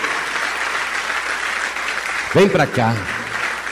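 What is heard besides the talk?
congregation applauding in church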